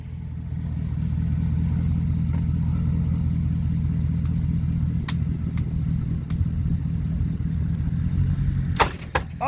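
A Chevy engine on a cold start settles into a steady, deep idle rumble that runs close and loud throughout, with a few faint clicks and a brief rattle near the end.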